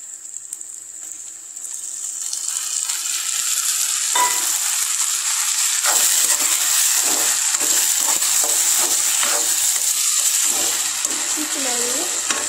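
Chopped tomatoes go into a pan of softened onions frying for Desi-style Maggi, raising a steady bright sizzle with a few scrapes and stirs as the crackle builds.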